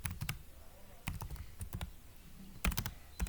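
Keys on a computer keyboard are typed in short irregular bursts of crisp clicks while entering a folder name, close and fairly quiet with brief pauses between groups.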